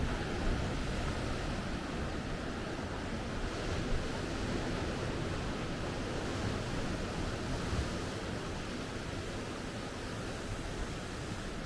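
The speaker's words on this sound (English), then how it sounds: "as I hear the waves just crash up right into these pools." Ocean waves on the El Salvador Pacific coast crash up into rock pools, a steady, dense roar of surf with wind rushing across it and no voices.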